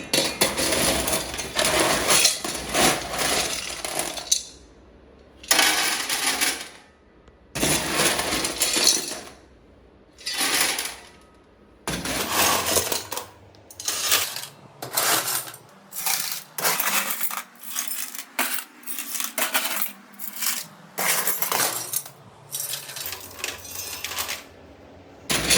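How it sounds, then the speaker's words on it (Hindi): Coarse aggregate being poured onto the tray of a weighing machine for a gradation test: repeated bursts of hard rattling stones clattering on metal, loud and close, separated by short pauses, without talk. "एंड देन आफ्टर उसके बाद हम लोग इसमें एग्रीगेट डालेंगे"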